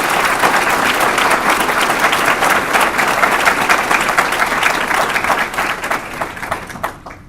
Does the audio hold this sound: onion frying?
no